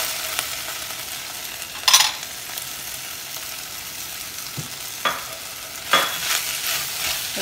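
Onions sizzle steadily as they fry in a pan for a slow-cooked beef dish, with a few sharp scraping stirs of a utensil breaking through the constant crackle.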